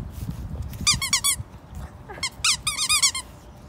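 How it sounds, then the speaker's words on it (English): A shelter dog chomps a squeaky toy, setting off rapid bursts of loud, high squeaks in two clusters, close up, with chewing and scuffling noises between them. "That's some good squeaking, buddy."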